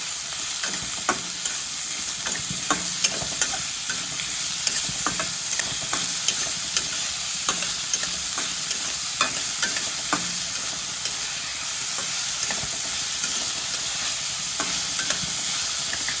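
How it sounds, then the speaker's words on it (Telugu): Thinly sliced onions fry over a medium flame in hot oil, a steady close sizzle with frequent scraping stirs clicking against the pan throughout, no voices. "ఇందులో సన్నగా తరిగి పెట్టుకుని ఉల్లిపాయలు వేయాలి. మీడియం ఫ్లేమ్లో పెట్టుకుని పక్కనే ఉండి వేయించుకోవాలి"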